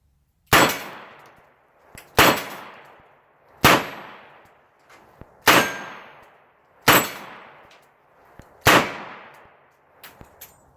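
Six loud revolver shots loaded with moon clips, each cracking sharply and ringing off steel targets at steady intervals outdoors, with small clicks and clinks from the gun between shots.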